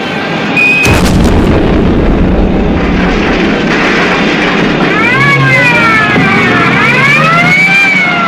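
Detonated ejectable fuel pod from an aircraft, heard as a sharp blast near the start followed by a loud roaring rumble with rising and falling siren-like wails over it, no talk.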